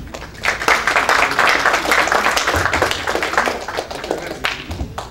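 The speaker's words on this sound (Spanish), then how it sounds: "Fuerte aplauso para él." An audience applauds a speaker being introduced at a talk on government environmental policy, a dense, steady patter of many hands clapping close by that eases slightly toward the end.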